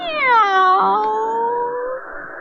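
A cat gives one long, loud, drawn-out meow that bends down in pitch and then trails off.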